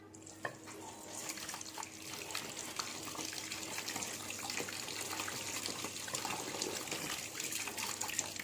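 Tap water runs steadily while hands are rinsed after handwashing, a continuous close splashing trickle with small irregular spatters and no talk.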